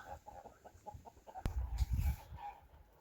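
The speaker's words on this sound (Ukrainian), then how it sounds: "Так, тут їдять індики." Soft clucking and scratching of young turkeys eating close by, with a few louder flutters and shuffles in the middle, over a quiet farmyard background.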